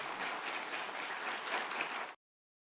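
Applause from the audience seated behind Meta's Mark Zuckerberg at a Senate hearing: a dense, steady wash of many hands clapping for about two seconds, then cut off abruptly.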